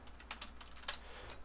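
Quick, irregular clicking of keys on a computer keyboard as a search title is entered, close and fairly quiet, with one sharper keystroke partway through and no talking.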